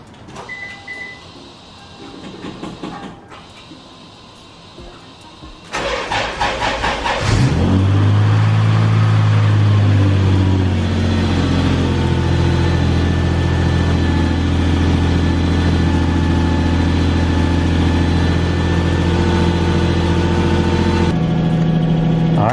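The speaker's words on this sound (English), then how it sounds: "All right, time to jump the car and see if it works." A Lexus IS300 engine cranks and fires up after a jump start, then settles into a steady, loud, close idle with a constant low hum that runs on to the end, preceded by a few seconds of quieter shuffling.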